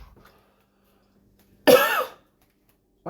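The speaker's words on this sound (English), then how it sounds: "I need to stop coughing" One loud, close, harsh cough bursts out of near silence and lasts about half a second, with the start of another cough at the very end.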